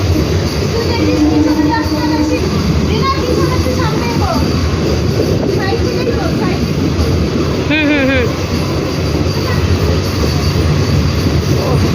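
Inside a moving, nearly empty train, a steady loud rumble of wheels and carriage runs throughout, with brief squeals and rattles rising above it and faint voices mixed into the noise.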